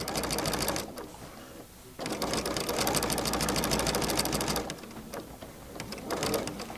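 Sewing machine with a walking foot stitching quilt blocks together, a steady rapid mechanical whir that runs loud and close, pausing briefly near the one- and five-second marks before resuming.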